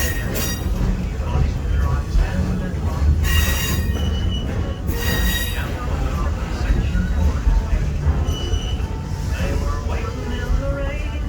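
A steam train's wheels screech and squeal steadily along the rails over a deep rolling rumble as it climbs uphill, loud and close, continuing throughout.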